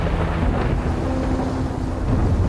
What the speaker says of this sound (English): It's really storming. Look at the lightning.